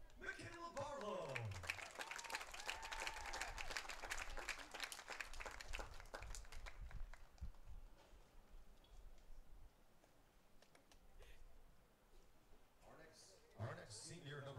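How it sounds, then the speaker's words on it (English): A crowd at a college softball game claps for a senior player, the applause strong for the first several seconds and then thinning out, with a PA announcer's voice and crowd noise around it. "please give one final GSW round of applause for number 4, Michaela Barlow"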